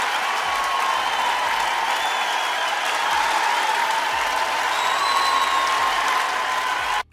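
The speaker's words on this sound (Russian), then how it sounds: "Еще раз похлопаем, это было прекрасно" Sustained audience applause at a concert fills the whole stretch as a dense, steady wash of many hands clapping, with a little crowd murmur. It holds even and loud, then cuts off abruptly at the end.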